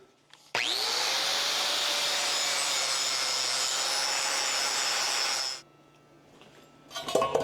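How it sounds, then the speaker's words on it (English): An angle grinder bevels the edge of a steel angle before welding during a wetline and PTO install on a Ford LTL9000 truck, a loud sustained grinding whine running about five seconds, then spinning down into quiet shop noise. "I'm gonna bevel this angle so that we can get a little better weld down in there"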